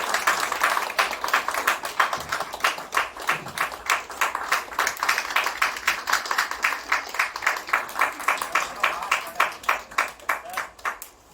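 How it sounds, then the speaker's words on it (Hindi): An audience at a Soulful Saturdays music evening claps in a brisk rhythmic unison beat, loud and close, sustained for about eleven seconds before tapering off. "जोरदार तालियां दोस्तों"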